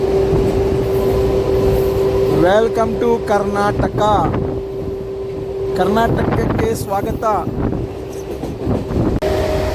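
A MEMU train runs near the Krishna river crossing at the Telangana–Karnataka border on the Kacheguda to Raichur line, with a steady rumble, a sustained hum and wind, while someone talks over it.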